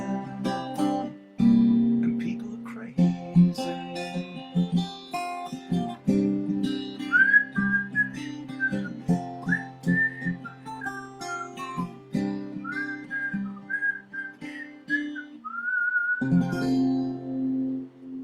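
A person whistles a song solo, with a clear melodic line of sustained and shifting notes, loud and close, and no talking over it.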